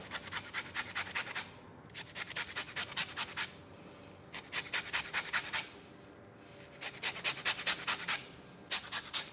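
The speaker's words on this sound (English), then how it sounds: "I'm gonna zest a lemon" A lemon is zested over cake batter, giving repeated bursts of bright dry rasping strokes in quick rhythmic runs, separated by short pauses, close and clear with no talk.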